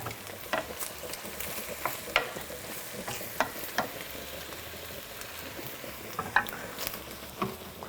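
Pasta with lemon juice and garlic warming in a pan in a teaching kitchen, a low soft sizzle under intermittent utensil clinks and stirring scrapes, close and fairly quiet.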